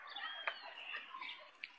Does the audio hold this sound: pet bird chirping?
yes